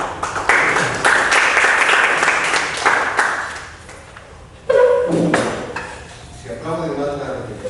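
Audience applause in a lecture hall, a dense burst of clapping for about four seconds that fades, followed by scattered claps and a speaking voice.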